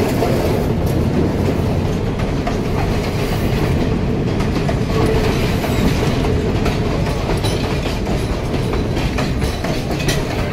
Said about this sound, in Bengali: ট্রেন আসছে, এই ট্রেনে করেই আমরা যাবো এলা।